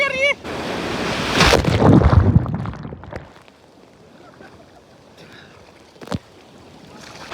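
Sea waves crash onto the shore at Ganpatipule beach, a loud rushing surge over the first three seconds that fades to a softer wash, with wind buffeting and a few voices.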